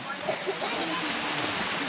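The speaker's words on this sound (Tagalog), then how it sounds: "Ulan na sa bukid." Steady rain falls on a farm field, a broad continuous hiss of drops at close range with no pauses, drowning out other detail.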